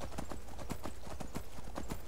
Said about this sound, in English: Ride your horse right up right near the door.